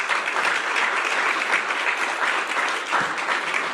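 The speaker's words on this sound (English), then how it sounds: "How about another round of applause for Bella?" Audience applause at a scholarship event, steady dense clapping from a crowd sustained for a few seconds, no voices above it.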